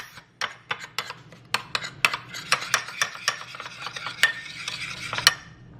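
Heavy whipping cream being mixed, a series of close, quick scraping clinks of a utensil against a dish in an uneven rhythm, moderately loud and without speech.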